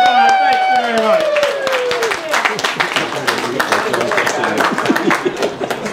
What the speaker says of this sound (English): How about a round of applause for number 45?